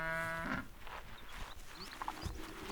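A single cow lows briefly and clearly at the start, in open highland pasture where an Ethiopian wolf hunts among grazing cattle, followed by quiet outdoor ambience with faint distant sounds.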